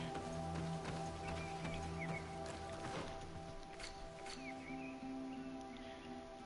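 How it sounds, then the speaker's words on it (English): Horse hooves clip-clop in the fantasy video game Greedfall, a soft repeated trot heard amid steady game ambience with faint bird calls and a low music drone. "Horses!"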